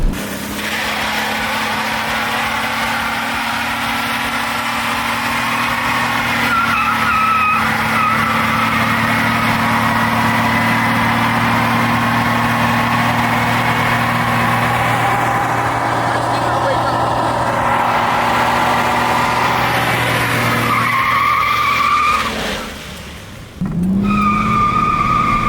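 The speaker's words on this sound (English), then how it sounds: "Now I need to see if it will do a burnout in the rain." A V8-swapped Jaguar doing a burnout on a wet road in the rain, with a loud steady engine drone and tire noise held for about twenty seconds, then a brief dip and a squeal near the end.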